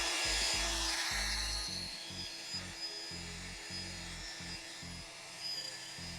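Wet sanding a car headlight lens with fine 3000-grit sandpaper, a repeated rhythmic rubbing scrub in close strokes, loud and steady with short pauses between passes, no talking.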